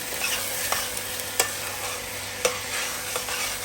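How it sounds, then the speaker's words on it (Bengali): Rice for pulao fries in a pan with a continuous close sizzle. A spatula stirs through it, with a few distinct scraping knocks. "চালটা দিয়ে আমি খুব ভালো করে ভেজে নিব"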